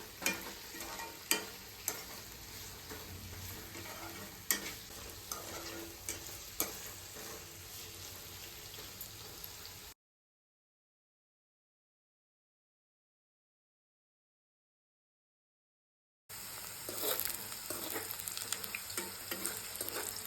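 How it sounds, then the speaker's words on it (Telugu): Bitter gourd slices fry in hot oil, a steady close sizzle with sharp crackles and stirring clicks, broken by a long silent gap before the frying resumes. "ఆయిల్ వేడయ్యాక అందులో కట్ చేసుకున్న కాకరకాయని వేయండి."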